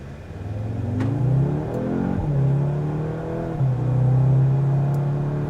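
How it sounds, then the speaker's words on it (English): A 2024 Audi S3 in dynamic mode revs loudly up close, its engine note climbing, dipping sharply around the midpoint, then rising and holding steady with a throaty tone and no talking. "the engine has a note"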